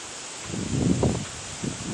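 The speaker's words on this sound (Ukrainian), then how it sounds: "вітер" Wind moving through leaves in a soft rustling swell that rises and fades, with steady background hiss and no voices.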